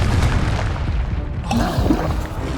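A Confringo spell explodes in Hogwarts Legacy, a deep booming blast followed by a rushing, gurgling roar that swells again midway, loud and close amid combat noise.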